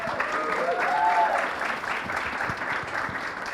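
An audience at a talk show event claps warmly and steadily throughout, with a brief voice and faint tones over the start of the applause.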